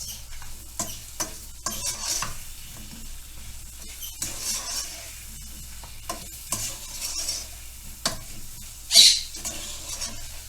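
Sugar cooks and caramelizes in a pan, a faint soft sizzle punctuated by intermittent stirring scrapes and light utensil taps, with one brief sharper clink near the end.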